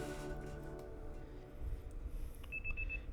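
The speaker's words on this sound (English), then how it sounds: "The next day, your alarm is going off." In the video game Pokemon Legends Z-A, an alarm clock goes off in short, rapid beeping pulses near the end, faint and following fading background music.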